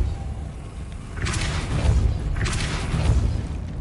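A Depulso force spell cast in the Hogwarts Legacy video game gives two soft whooshing bursts with muffled booms over a steady low rumble of game ambience, close and moderately loud.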